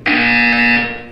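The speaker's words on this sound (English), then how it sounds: "You will hear a buzzer." A Portal 2 buzzer sounds as one loud, sustained electronic tone lasting about a second, steady and unbroken, then fading slightly at the end, with no other sound around it.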